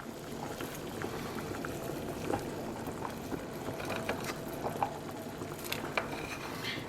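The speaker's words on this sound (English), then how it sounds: "I'm going to drop these in the boiling water." South Swedish potato dumplings (kroppkakor) are dropped into a pot of boiling water on a home stove, giving a steady low bubbling and rolling simmer with faint scattered splashes and no voices.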